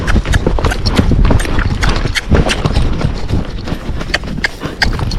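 Hooves of a Tennessee Walking Horse, a gaited breed, clatter in a fast, uneven rhythm at a canter. The beats are loud and close and keep going the whole time, with no one talking over them.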